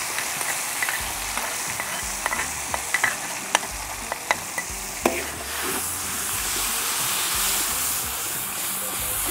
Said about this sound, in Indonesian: Pertama kita tumis dulu bumbu halusnya.